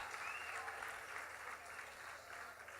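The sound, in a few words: congregation applause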